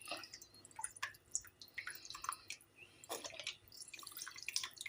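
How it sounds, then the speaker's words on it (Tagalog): Soy sauce poured into a pot of water for pancit, giving close, irregular dripping and splashing liquid sounds with bright trickles, no talking. "lagyan na natin ng toyo upang ipakulo natin bago ilubog ang ating pansit"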